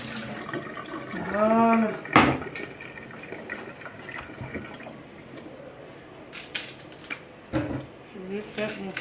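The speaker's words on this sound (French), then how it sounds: "On met un peu l'eau." Water poured into a pot for a sea bass fish broth, a short filling sound rising in pitch for about a second, followed by kitchen clatter and a brief spoken word.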